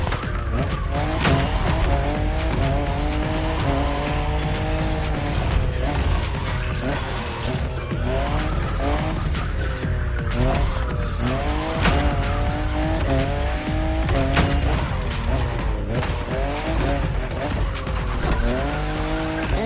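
Toyota Supra, fifth generation, racing in The Crew Motorfest video game: engine revving up and down through gear changes with tire squeal and skids, loud and continuous, with a voice talking over it.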